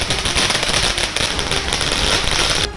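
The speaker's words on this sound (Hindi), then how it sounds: "आतिशबाजी शुरू कर दी" Dense, rapid crackling of firecrackers and fireworks at a Telangana election victory celebration outside a house, loud and continuous with overlapping pops throughout.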